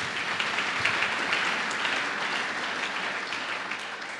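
A church congregation claps in steady, sustained applause at a service, a dense wash of many hands filling the room at even loudness with no voices standing out.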